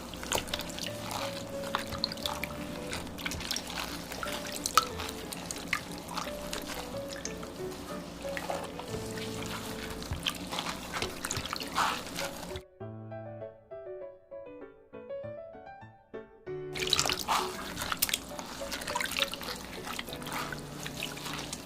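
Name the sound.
kneading soaked barley malt in water for sikhye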